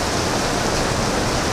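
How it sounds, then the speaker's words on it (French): Heavy rain pours down steadily on an island, a dense, loud, unbroken hiss of countless drops with no pauses. "là il pleut un truc de fou aujourd'hui"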